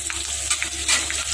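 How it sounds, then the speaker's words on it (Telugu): Onion and green chillies sizzling in hot oil, a close, continuous crackle with brief stirring scrapes. "ఇప్పుడు మనం కట్ చేసి పెట్టుకున్న ఉల్లిపాయ, పచ్చిమిరపకాయ వేస్తున్నాను"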